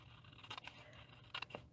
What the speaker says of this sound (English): I think I can just use my scissors